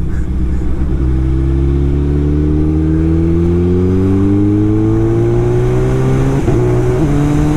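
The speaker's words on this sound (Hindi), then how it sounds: "हालत देखो इस ट्रक की, साला इतनी मिट्टी उड़ा रहा है ना कि पूछो ही मत, इसका इंजन ही सड़ गया हुआ" A worn truck engine droning loud and steady on a dusty road, pitch rising slowly as it accelerates, with a brief shift near the end, close and dominant with no talk.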